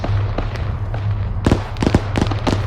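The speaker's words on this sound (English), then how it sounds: "Autocannon, northeast." Sharp bursts of rapid autocannon fire in the game Arma 3, a few quick thudding shots clustered in the middle over a low steady rumble.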